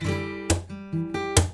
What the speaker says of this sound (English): use my fingernail of my first finger, my index finger, to strum the first chord